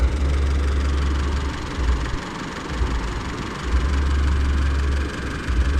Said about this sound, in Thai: เครื่องยนต์เดินเรียบเหมือนเดิมนะครับผม